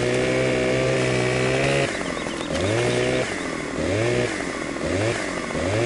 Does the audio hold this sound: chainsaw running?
yes